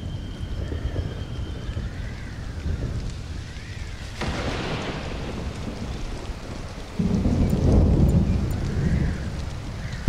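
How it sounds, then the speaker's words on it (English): A thunderstorm in the survival game Stranded: Alien Dawn, with a steady hiss of rain and two deep rolling rumbles of thunder, the second swelling louder near the end. No voices are heard. "there's the thunderstorm. Now watch everything get struck by lightning."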